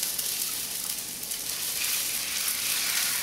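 Egg whites for char siu pork fried rice frying in a pan, a steady broadband sizzle with faint crackle holding even and fairly loud throughout, with no talk.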